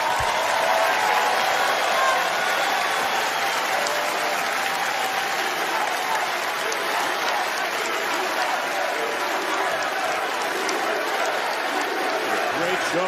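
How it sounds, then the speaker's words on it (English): A large crowd at a WWE wrestling event applauds loudly and steadily, with scattered cheers mixed into the sustained clapping throughout. "give them a round of applause with me"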